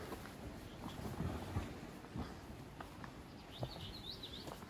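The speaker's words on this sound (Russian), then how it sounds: "Птички щебечат." Faint, scattered bird chirps over a quiet outdoor background, with a brief higher twittering call near the end.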